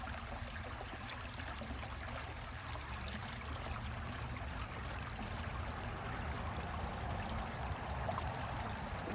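Stream water flowing and trickling steadily nearby while a sample dipper is rinsed in it, a continuous soft wash of water with no talking.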